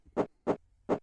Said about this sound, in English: That's the sound of the bee trying to break in here.